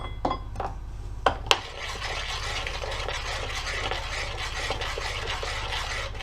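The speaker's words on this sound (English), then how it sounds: "gradually you want to mix in your dark and your milk chocolate" Dark and milk chocolate are stirred into hot toffee mixture in a pan, a few sharp utensil knocks at the start giving way to a continuous scraping, rubbing stir, close and fairly loud.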